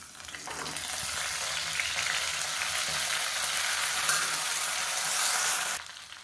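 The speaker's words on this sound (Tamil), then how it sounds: "புதினா கொத்தமல்லி பொடியாக கட் பண்ணதை இந்த எண்ணெயில் சேர்த்து வதக்கிக்கலாம்" Finely chopped mint and coriander sauté in hot oil with a dense, even hiss, close and loud for several seconds, then cut off abruptly. No talking.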